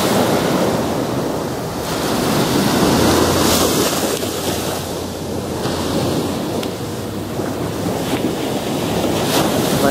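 Ocean waves wash onto a beach at Puerto Vallarta, Mexico, with a continuous loud roar of surf and gusting wind noise buffeting the microphone.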